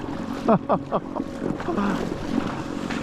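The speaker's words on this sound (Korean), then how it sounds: "전기모터 다니까 이렇게 좋습니다" A small fishing boat cruising on an electric motor hums steadily, with water and wind noise around it and a few brief voice-like sounds near the start.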